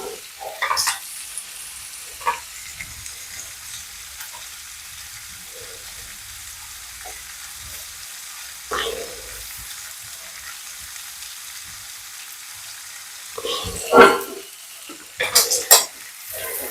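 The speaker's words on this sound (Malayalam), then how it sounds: "ഈ പാവയ്ക്കയും കൂടെ ഒന്ന് വാടി വരട്ടെ നന്നായിട്ട്" Bitter gourd frying in a pan while being stirred for pickle: a steady soft sizzle under scattered scraping and stirring clatters, with a few louder spoon knocks near the end, fairly close and without talk.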